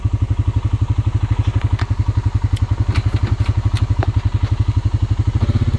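A 2021 Honda Rancher FM1 4x4 ATV climbs wooded hills on light throttle, its engine close and steady with a low, evenly pulsing chug and faint clatter throughout.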